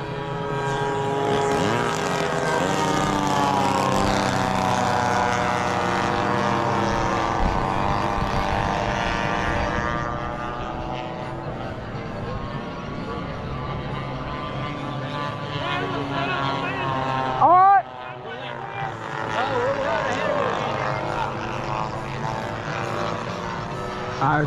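A warbird propeller airplane comes in to land at a bomber airfield, its engine droning loud and steady, then easing in pitch as it nears, with a brief bump partway through.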